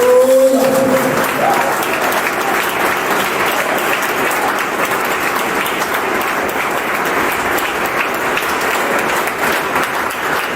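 A church congregation gives loud, continuous applause as acclamation to Jesus during a French-language teaching service, a thick wall of clapping close by after a brief sung or spoken note at the start.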